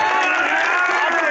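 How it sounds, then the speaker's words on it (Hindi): Dense crowd cheering and clapping at an outdoor BJP political rally on Shukra Bazar Road, Harinagar-Badarpur, a loud continuous roar of applause and voices filling the whole moment. "एक बार मोदी जी के लिए ताली बजाओ"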